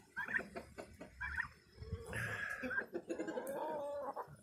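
Young pet turkeys gobble and chirp in a run of high, warbling calls, close and fairly loud, with a busy farmyard background.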